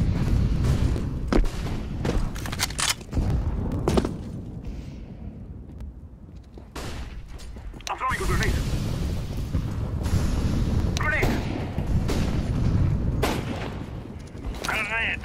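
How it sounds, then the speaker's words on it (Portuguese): Flashbang grenade blasts in the video game CS:GO, sharp bangs cutting through busy gameplay noise and gunfire, with a louder burst about midway, under ongoing player chatter. "Throwing a flashbang."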